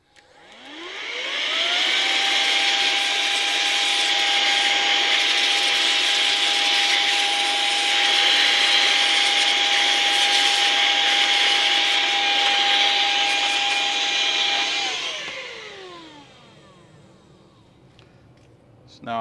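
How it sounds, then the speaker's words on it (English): An air duster spins the fan of a PlayStation 4 Pro, a loud steady whine that rises quickly in pitch, holds for over ten seconds, then winds down as the fan slows, with no speech. "Let's get the air duster now."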